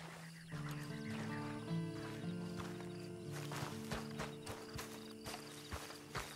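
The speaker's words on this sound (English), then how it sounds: "And you better get on this horse." In the video game Red Dead Online, a horse neighs while hooves clop in an uneven rhythm, with sustained musical tones underneath.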